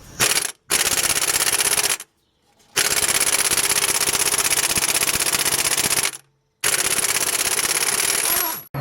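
A 22mm crank bolt on a Toyota/Lexus V6 is hammered loose with an impact wrench, heard as three long, loud, machine-gun-like rattling bursts separated by brief silences.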